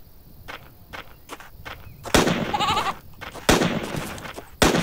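A little goat bleats in the sci-fi survival game Gaia amid repeated sharp hits, with a wavering bleat in the middle and loud thumping impacts spaced through the scene.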